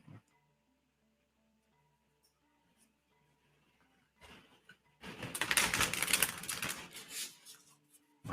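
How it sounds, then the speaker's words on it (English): Tarot cards being taken from their box and shuffled: quiet small handling noises at first, then a dense, loud riffling burst of card shuffling lasting a few seconds before tapering off. "and a little bit of shuffling."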